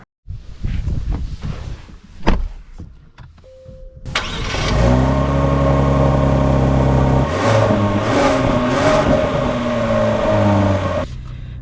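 A 2025 Genesis G80 sedan starts with a few clicks and thumps, then its engine settles into a loud, steady hum with a brief rise in pitch, heard close from inside the car.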